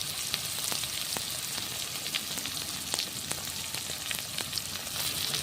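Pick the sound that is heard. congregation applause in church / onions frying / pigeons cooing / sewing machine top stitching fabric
onions frying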